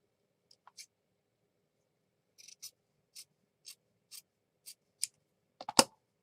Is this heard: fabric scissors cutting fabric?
yes